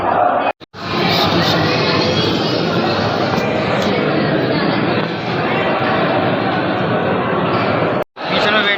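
A dense crowd of pilgrims at the Ujjain Mahakal temple: a steady, loud wash of chatter and shouting voices, briefly cut off near the start and the end.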